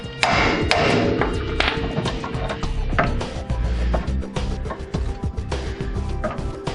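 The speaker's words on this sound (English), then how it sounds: "So if you pound on it, then it deforms the taper and pops it off." Repeated hammer blows on the tapered fit of a 1997 Honda Civic axle joint, being pounded to pop it loose: close, sharp metallic thuds and knocks in an irregular series, with clanks of tools between strikes.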